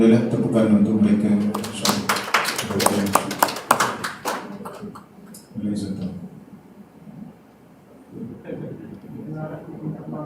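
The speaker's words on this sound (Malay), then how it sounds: "tepukan untuk mereka" An audience claps at a mosque-related ceremony for an MOU signing and the launch of a Quran study course. A burst of scattered, fairly loud handclaps runs for a few seconds amid a man's speech, with more talking after it fades.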